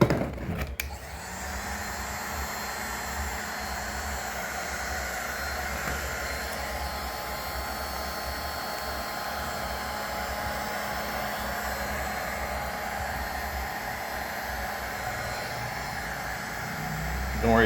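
Heat gun warming a headlight to loosen and separate its lens, a constant loud blowing whir that runs unbroken and steady from start to finish, with faint clicks at the very beginning.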